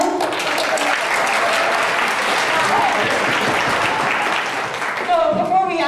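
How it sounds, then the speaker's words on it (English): Sustained audience applause at a student event, a steady dense wash of many hands clapping, with a voice emerging near the end. "So give them a round of applause."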